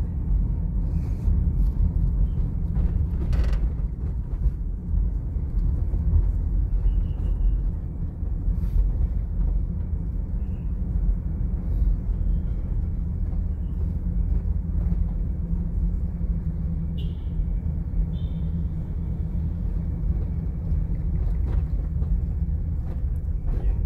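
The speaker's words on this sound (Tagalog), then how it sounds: "Traffic na walang pagbabago." Slow, jammed road traffic on EDSA heading toward Ortigas in Manila, heard from inside a vehicle as a steady low engine rumble and road drone with faint wind noise and no talking.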